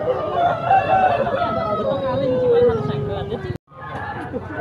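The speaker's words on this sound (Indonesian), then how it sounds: "Ayam kampung." A rooster crows loudly with a long drawn-out call while village hens cluck, amid a busy babble of voices at a market in Muntilan, Magelang.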